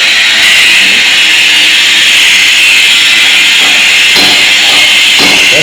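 An Oxylance Sure Cut oxygen lance burns a hole, giving a loud, harsh, continuous roaring hiss up close, with a few scraping knocks near the end.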